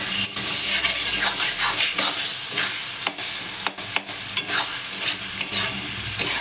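Chopped tomatoes sizzle and hiss with chicken in a hot pan, and a utensil scrapes and clatters against the pan in repeated stirring strokes up close. No voice is heard.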